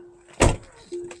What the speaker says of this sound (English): Oh, got this other door open.